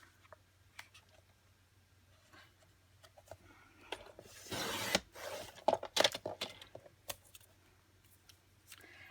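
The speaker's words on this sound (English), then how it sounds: "I'm going to cut off this little strip here that's at the top" A strip is cut off the top of a sheet of paper for a small handmade notebook, a short rasping burst of blade through paper amid quiet scattered handling clicks.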